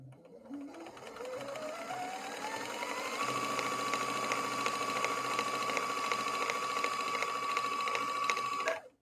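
A Janome Skyline S5 sewing machine winds a bobbin, its motor whine rising quickly in pitch and then holding a steady, even high hum for several seconds before stopping abruptly.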